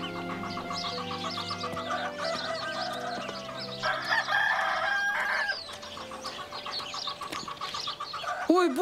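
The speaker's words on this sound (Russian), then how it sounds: "Боже, какие куры смешные." Farm chickens clucking busily with a rooster crowing, close and lively poultry calls over soft background music, with a brief sweeping tone at the very end.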